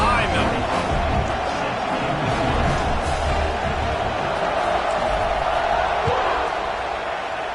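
Dense roar of a college football stadium crowd at Florida State versus Clemson as the kickoff is set, a steady loud wash of cheering and babble throughout.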